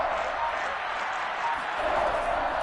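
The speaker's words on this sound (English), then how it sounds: "The crowd getting into it as we come up on a big 3rd down." A football stadium crowd in the Madden NFL 22 video game cheers and applauds as a steady, dense roar throughout, with no individual voices standing out.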